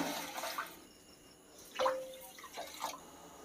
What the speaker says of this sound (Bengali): তার জন্য আমি 1 বাটি চিনি নিয়েছি আর পরিমাণ মতন জল দিয়ে দিচ্ছি।